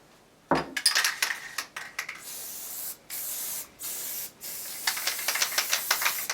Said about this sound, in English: Spray the other half.